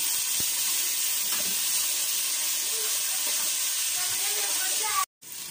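Spices fry in hot oil in a pot for Haitian mayi kole, a steady loud hiss running almost unbroken before cutting out briefly near the end.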